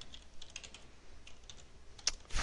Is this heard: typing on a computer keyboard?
yes